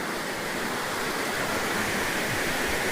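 The river at Kuala Mu near Sungai Siput rushes in a steady, loud, unbroken wash of water noise that holds at the same level throughout, with no voices.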